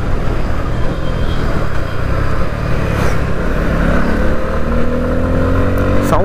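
A Bajaj Pulsar F250 motorcycle being ridden: a continuous, loud engine drone with shifting pitch as it accelerates, mixed with rushing wind noise.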